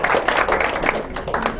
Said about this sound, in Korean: 너 박수 한번 쳐주세요